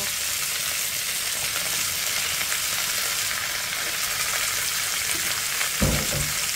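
Mixed vegetables sautéing in a hot pan, a loud steady sizzle and crackle throughout, with a brief clatter of stirring near the end.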